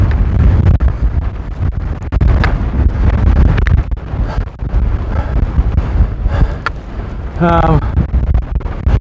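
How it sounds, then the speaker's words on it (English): Strong gusts on an Appalachian Trail mountaintop buffet the microphone in loud, rumbling bursts, with a voice speaking briefly amid the wind. "it's quite windy up here"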